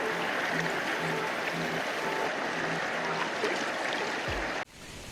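The Rangit River runs steadily as a broad, close rushing wash with a trickling edge, holding an even level until the sound drops away abruptly near the end.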